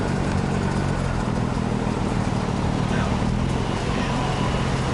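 A BMW 335i E92 coupe with the N55 single-turbo engine and an aftermarket exhaust drives around a neighborhood, giving a steady, close engine and exhaust roar mixed with road noise, with talking over it.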